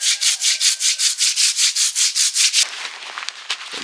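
Rhythmic back-and-forth scrubbing of moss off a slippery surface, about a dozen loud, even rasping strokes close by, then breaking off into quieter scattered knocks and rustles.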